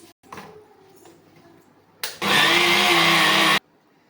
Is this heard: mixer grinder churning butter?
yes